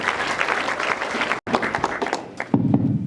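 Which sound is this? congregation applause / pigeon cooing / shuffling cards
congregation applause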